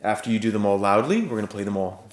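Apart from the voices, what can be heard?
No everyday noises stand out.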